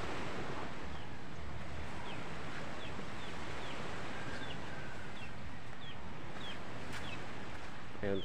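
Sea waves wash steadily onto a seashore, a continuous broad roar with wind buffeting the microphone and faint high chirps scattered throughout, no voices.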